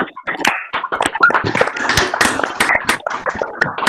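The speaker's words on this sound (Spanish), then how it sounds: "brindarle un aplauso al camarada por su testimonio" Applause for a speaker at a political gathering: dense, close hand clapping from a group, loud and irregular with sharp individual claps, sustained throughout.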